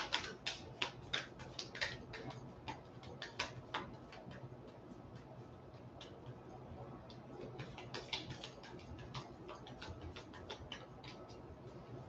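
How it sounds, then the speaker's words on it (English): Oracle cards are shuffled by hand indoors, giving a run of quick, crisp riffling taps and flicks in irregular bursts, close and fairly quiet with no talking over them. "let's shuffle."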